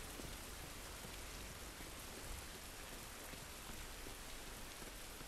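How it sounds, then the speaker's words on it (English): Rain falls in The Last of Us Part 1, a steady, soft, even hiss of drops on surfaces throughout, faint and unbroken with no voices. "Man, hearing this rain, that's actually putting me to sleep a little bit."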